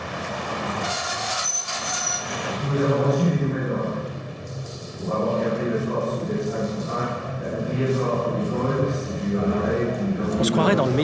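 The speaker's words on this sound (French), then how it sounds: "On se croirait dans le métro ici." Metro train noise echoing in the former Saint-Martin metro station in Paris: a continuous rumble of rolling carriages with occasional high wheel squeals, while people talk over it throughout.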